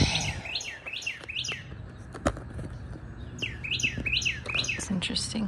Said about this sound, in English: That bird is chirping.